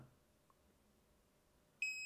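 A Nedis smart water leak alarm sounds a sudden, loud electronic beep near the end, a sustained high tone with harmonics that starts abruptly after near-silence.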